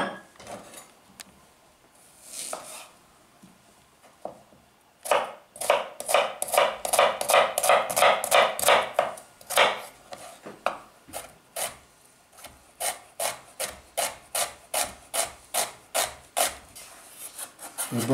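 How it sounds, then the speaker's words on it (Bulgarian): A knife finely chops onion on a cutting board, with quick, crisp repeated strokes coming in bursts of steady rhythm, close and clear with no talking. "Нарязваме лука наситно."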